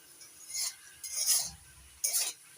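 Spatula scraping and clinking through spinach and prawns in a cooking pan as the water cooks off, three short separate stirring strokes, close and fairly soft.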